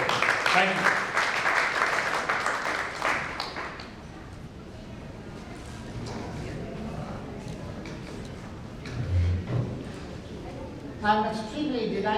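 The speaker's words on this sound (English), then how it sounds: "So please, gentlemen, a warm applause for him." A hall audience at an international convention gives warm applause for a guest. Brisk clapping for about three seconds dies away, then someone speaks.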